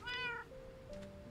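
Cats meowing in Minecraft: one short, clear meow rises and falls, then a softer, drawn-out mew follows, close and alone with nothing else around.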